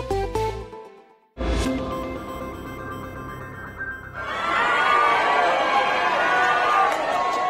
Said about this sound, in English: What you just heard were throngs of supporters cheering as they caught their first glimpse of former